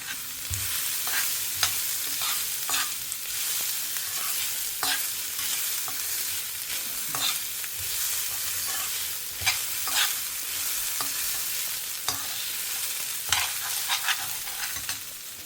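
Curry leaves, asafoetida and grated coconut fry in hot coconut oil while being stirred, a steady close sizzle with repeated light scrapes and clicks of the spoon in the pan and no talking.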